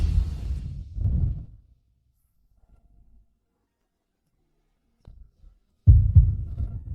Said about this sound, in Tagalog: Ang bilis ng tibok ng puso!